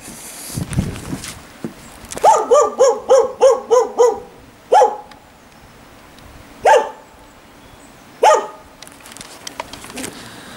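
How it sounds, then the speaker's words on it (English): A loose dog outdoors barks in a quick burst of about six sharp barks, then three more single barks spaced a couple of seconds apart, fairly close. "Noisy oh, bastard. Hate them. Loose dogs."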